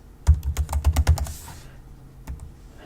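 Quick run of keystrokes on a computer keyboard while a password is entered, about nine soft clicks in a fast burst, then a pause and a couple of final taps, close and quiet.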